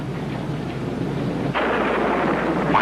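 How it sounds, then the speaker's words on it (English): Thunderstorm with heavy rain as a radio drama effect: a low rumble of thunder rolls at first, then a loud, dense hiss of downpour suddenly swells and continues steadily, no voices. "The rain was still coming down in buckets."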